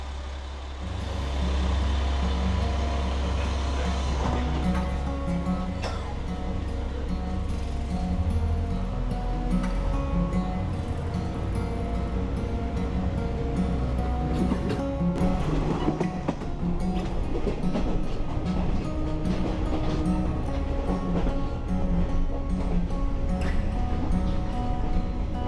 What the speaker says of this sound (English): This diesel train in the classic J&R orange dates from the late 70s.